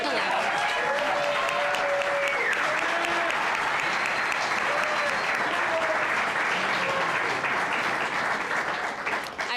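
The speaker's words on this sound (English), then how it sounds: "Can we have another round of applause for Delight?" A round of applause from the audience at a Shad Derby evening event, steady and sustained clapping that runs the whole way through, with scattered cheers and voices over it.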